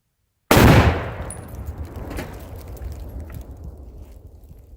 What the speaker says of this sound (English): 1 pound of exploding target, generic, non-brand name exploding target. And versus 3 hard drives